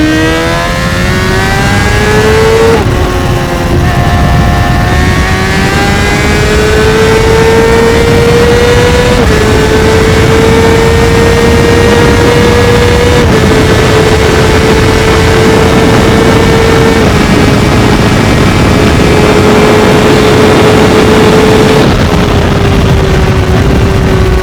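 A Honda CBR600RR sport motorcycle engine revs hard and climbs through several gears, loud and close, each upshift dropping the whining pitch before it rises again, with no talk.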